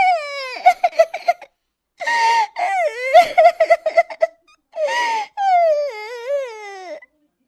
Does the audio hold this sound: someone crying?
yes